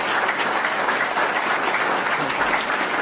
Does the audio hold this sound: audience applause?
yes